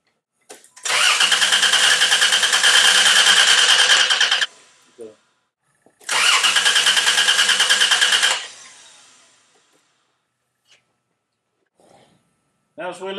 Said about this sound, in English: Let's crank the engine on that.